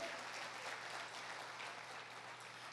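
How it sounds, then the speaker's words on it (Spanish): A church congregation applauding during a family worship service, a dense, continuous patter of clapping heard at a distance and fairly faint, fading a little toward the end. "Dale un aplauso al Señor"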